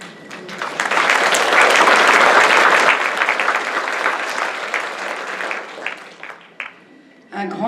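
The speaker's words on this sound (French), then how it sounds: "je vous remercie pour les applaudissements que je transmettrai" Congress audience in a hall bursting into loud applause that swells quickly, holds at full strength, then thins out and tapers off before a brief resurgence at the end.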